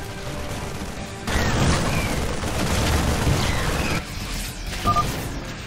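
Rumbling explosions and crashing impacts from a base under attack in the StarCraft II game, a dense loud burst lasting several seconds with a brief lull before more blasts.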